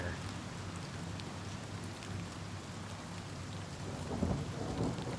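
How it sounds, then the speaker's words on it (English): Steady video game rain hisses throughout with low rolling thunder rumbling underneath, heard indoors in Oblivion Remaster as a sound bug, swelling slightly louder near the end. "It should not be making raining noise on top of thunder inside."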